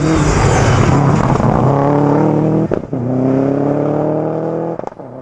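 A Subaru Impreza rally car at full throttle on a closed rally stage, its engine roaring loud and close with a steady high drone that cuts out sharply twice, at each gear change.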